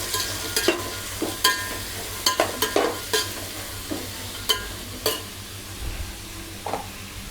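Onions and green chillies fry in hot oil for a spicy crab curry. Steady sizzling runs under a dozen or so sharp stirring scrapes and clinks of a spoon against the pan, heard close up with no one talking.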